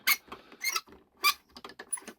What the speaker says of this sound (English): Which is a nice squeaky noise, which to me is good.